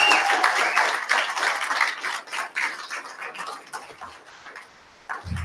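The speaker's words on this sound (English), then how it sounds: "round of applause" Applause from the crowd at a live ex-Jehovah's Witness event in Sydney, a warm round of clapping that slowly fades into sparse individual claps before falling away.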